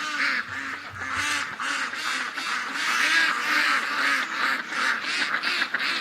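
A flock of ducks quacks continuously outside a wall in wet weather, the calls loud, overlapping and raucous throughout.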